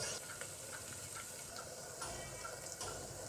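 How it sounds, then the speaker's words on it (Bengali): Spice paste with garlic and ginger paste sautéing in a pan for beef tehari, a steady soft sizzle with light stirring scrapes running throughout, moderately close and without talk. "এখন আমি রসুন বাটা আদা বাটা দিয়ে ভালোভাবে মশলাটা কষাই নিব"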